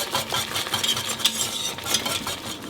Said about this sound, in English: I need to whisk this at this stage and not later, because I don't want to mash the fried onions and vermicelli noodles at the end